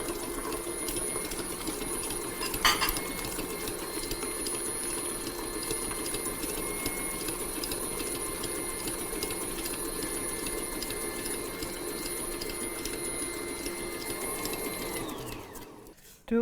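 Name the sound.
Hobart stand mixer running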